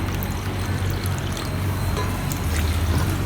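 Water is poured into flour batter in a bowl for dosa, a steady continuous pouring and trickling sound, close and fairly loud, with no talking.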